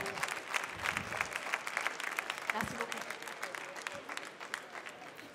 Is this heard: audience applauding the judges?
yes